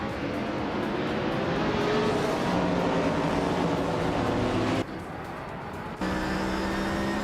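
Vintage race cars, led by a 1973 Porsche 917/30 Spyder, roar off the start line in a racing game. Their engines form a loud, steady drone that briefly drops away near the end and then returns.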